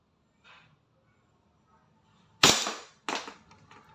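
Two sharp, loud shots from a DB 1911 MEU semi-automatic airsoft pistol, fired about half a second apart, each with a brief ringing tail, preceded by a faint soft click.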